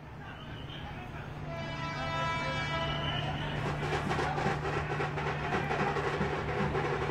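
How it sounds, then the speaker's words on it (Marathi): At Thane railway station the Ayodhya special train hums and rumbles steadily, a low engine drone under a busy platform crowd, with rising clatter and noise building partway through. "ही अयोध्या स्पेशल ट्रेन आता थोड्याच वेळात ठाणे रेल्वे स्थानकाहून सुटणार आहे"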